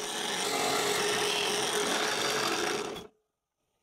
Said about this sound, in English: Then I move the drill bit down and I keep drilling